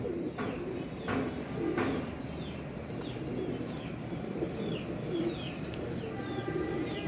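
Pigeons coo softly in low repeated calls amid a busy outdoor murmur at a pigeon sale, with a few sharp chirps and clicks scattered through.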